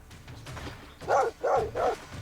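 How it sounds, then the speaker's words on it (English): Three loud, close barks from a dog in the video game Stoneshard sound in quick succession after a low growly background, with no voices over them. "Stop barking."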